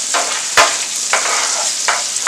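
Okra fries in butter in a pan with a loud, close sizzle throughout, broken by a few sharper bursts of spitting.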